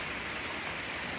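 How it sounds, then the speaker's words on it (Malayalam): Heavy rain falls in a dense, steady hiss, even and unbroken across the short stretch, with nothing else standing out. "ഒട്ടുക്കമട്ട മഴ"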